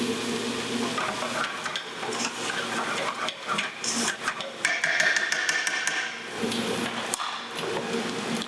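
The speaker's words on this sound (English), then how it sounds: "I'm stirring the onions and the fat from the pan, and I stir everything together properly nice." Rice being stirred with onions and pan fat in a hot pan, a steady scraping and sizzling under a continuous frying hiss, close and fairly loud with no talk.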